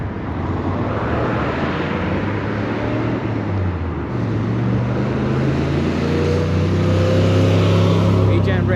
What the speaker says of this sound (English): Regen brakes are kicking in.